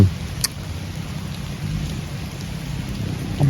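Rain falls steadily at an abandoned mine during a storm, a broad, constant hiss with low rumbles of thunder rolling underneath and a few faint knocks.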